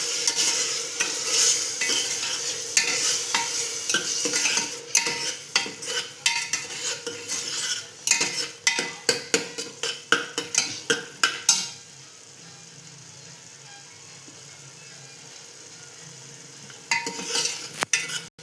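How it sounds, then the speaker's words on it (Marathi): Tomato paste sizzles and fries in oil in a pan, with a spoon scraping and stirring in bursts of sharp clatters, then a quieter stretch of gentle frying before stirring resumes near the end. "आता आपण टाकतो टोमॅटोची पेस्ट चांगलं तेल सुटे पडून परतून घेऊया"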